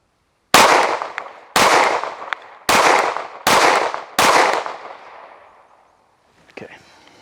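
Five loud, evenly spaced shots from a Sig Sauer P365-FUSE pistol with a 4.3-inch barrel firing AAC ammunition, each crack followed by a short echoing tail, then a faint clatter.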